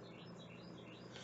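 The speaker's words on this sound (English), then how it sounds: "Did you guys hear how loud that bird is?" Bird chirping right outside a window, a continuous busy layer of small tweets and calls running steadily through the whole moment, fairly close, with no talking over it.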